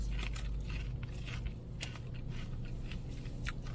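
Close, crisp crunching and biting into crispy food, a run of irregular crackly bites and chews with no talking, set against a steady low rumble like a moving vehicle.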